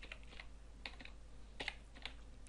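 Someone types a command on a computer keyboard, with quiet, close key clicks in short bursts over a steady low hum and no talking.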